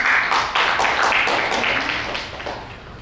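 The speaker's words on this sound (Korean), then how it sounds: "큰 박수 부탁드립니다" An audience at a Korean research institute symposium on protecting startup technology applauds a presenting lawyer, dense steady clapping from many hands that stays loud and then slowly fades.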